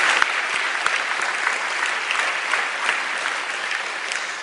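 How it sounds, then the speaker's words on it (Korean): A church congregation at a Sunday worship service claps warmly to welcome a visiting guest, steady dense applause throughout with no talking over it. "뜨거운 박수로 환영하겠습니다"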